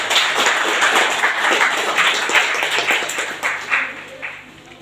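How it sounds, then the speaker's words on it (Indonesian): A school orientation audience in Indonesia claps loudly for a speaker, a close, dense burst of applause that holds steady and then thins slightly toward the end. "Kita beri tepuk tangan untuk Pak Engkos."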